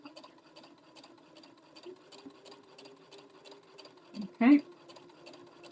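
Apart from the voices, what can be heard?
sewing machine stitching a quilt seam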